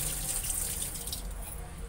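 Steady running water from a tap splashes continuously into a container of lentils being washed, close and fairly loud, with no voices.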